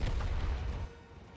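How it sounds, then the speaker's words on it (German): A frag grenade goes off in Battlefield 2042 gameplay, a single short muffled boom at moderate distance that quickly fades out. "Nee, das war nur eine Frag Explosion."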